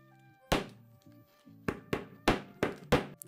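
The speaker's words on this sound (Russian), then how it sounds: "Мой молоточек его профигачил." Small hammer smashing a Snickers bar being crushed for homemade ice cream, six sharp, hard thunks at irregular intervals, close and loud, over faint background music.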